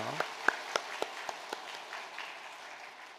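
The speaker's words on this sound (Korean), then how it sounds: "박수 하겠습니다." A church congregation claps at a Christmas Sunday service: a burst of sharp, separate claps that thins out over a few seconds, with talking heard under and after it.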